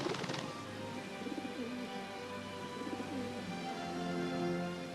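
A dove coos softly in a quiet setting, its low, rounded calls repeating over several seconds against faint background noise.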